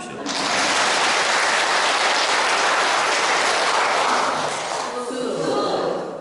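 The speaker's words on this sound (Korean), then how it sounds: "그분 빼고 박수 한번 쳐주십시오." Loud, sustained clapping from a large audience at a Lenten lecture fills the clip, starting abruptly and easing slightly near the end.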